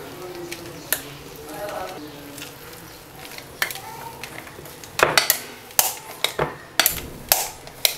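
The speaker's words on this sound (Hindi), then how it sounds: "अब आलूओं को अच्छी तरह से मैश कर लेंगे।" Boiled potatoes mashed in a bowl with a utensil, giving soft squishing and scraping under a voice, then sharp clinks and knocks against the bowl coming in quick irregular bursts near the end.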